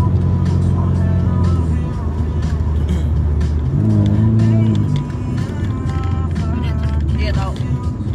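A car accelerating hard on a highway with the gas pedal floored, engine drone climbing and swelling in pitch, loud and close, while people talk over it.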